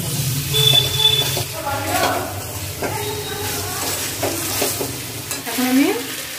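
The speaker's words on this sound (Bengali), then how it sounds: "ভালো করে কষে নেব।" Roasted chicken pieces stir-fried in spice masala in a pan over a low gas flame: a continuous close sizzle with repeated scraping stirs, and a voice talking faintly over the cooking.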